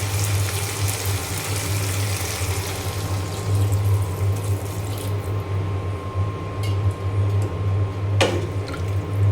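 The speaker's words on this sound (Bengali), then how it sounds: "এখন দিয়ে দেব পরিমাণ মতো সিদ্ধ হওয়ার জন্য পানি।" Water poured into a cooking pot of sautéed drumsticks, a steady close gush and splash running for several seconds over a low kitchen hum, with no voices.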